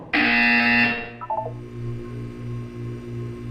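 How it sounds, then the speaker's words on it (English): A loud electronic buzzer blares in Portal 2 for nearly a second, followed by a few short beeps and then a softer pulsing tone repeating evenly in the background. "You will hear a buzzer. When you hear the buzzer, look down at the floor."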